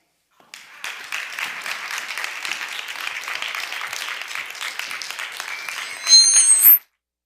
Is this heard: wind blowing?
no